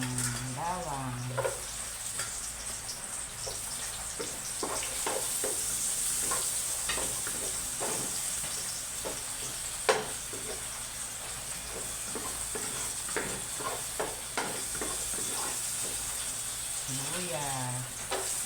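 Garlic sautés in a pan for chicken arroz caldo, a steady close sizzle with repeated spatula stirs and scrapes, and a voice speaks briefly at the start and end.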